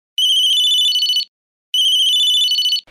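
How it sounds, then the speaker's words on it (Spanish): A mobile phone ringtone plays two identical loud, bright electronic bursts of about a second each, separated by a short silence, with no talk. "Si suena un teléfono móvil."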